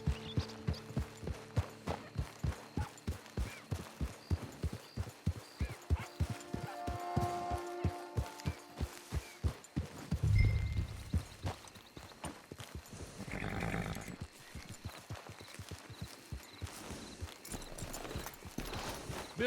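Horse hooves clip-clop steadily in Red Dead Redemption Online, a regular even beat of close footfalls that runs through the whole stretch, with a brief heavier thud midway.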